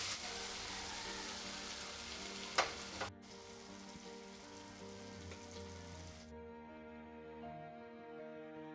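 Ginger-garlic paste and cumin powder fry in tomato masala for a fish dish, giving a soft, quiet sizzle with a brief utensil clatter early on.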